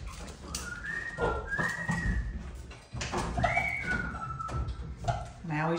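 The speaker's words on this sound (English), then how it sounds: "Now he's just a whistling in yonder." A person whistles nearby in short rising and falling tones, a few separate phrases over a background of low rustling and outdoor noise.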